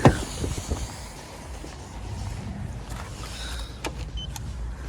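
The power window motor of a 2019 Volkswagen Passat B8 whirs steadily inside the car after a sharp click, with a few small knocks and clicks near the end.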